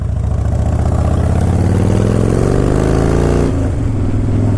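Harley-Davidson Fat Boy motorcycle riding, its loud, close V-twin engine rumbling steadily with a gear change near the end.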